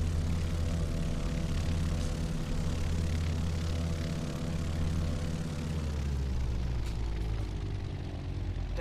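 Aircraft engine drone in a flight simulator game, a steady loud hum with layered tones whose pitch sinks over the last few seconds as the engine shuts down.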